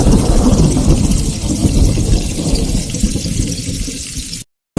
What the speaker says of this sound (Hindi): बाहर बारिश बहुत ज्यादा है, इसलिए आप पूरी सावधानी से जाइएगा, क्योंकि बाहर बहुत जोरों से बिजली भी कड़क रही है।